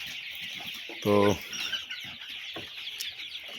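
Chickens at a poultry farm at night give a loud, close burst of clucking followed by softer scattered clucks and rustling over a steady background hum, with a brief word spoken.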